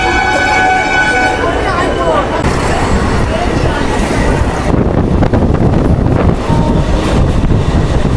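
A new passenger train on the Krishnagar to Amghata line runs through Amghata station, its loud steady rumble and wind rush filling the clip, with a tonal horn or whistle near the start.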